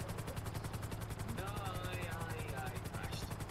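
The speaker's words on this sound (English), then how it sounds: "that's a police chopper" Police helicopter in GTA V Online, a steady low pulsing rotor drone throughout, mixed with bursts of gunfire and faint voices.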